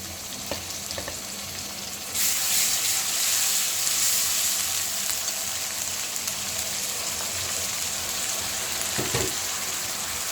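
Ginger and garlic paste hits a hot pan for an egg dal, setting off a loud, steady sizzle after a quieter start that holds at close range, with a faint knock from stirring near the end.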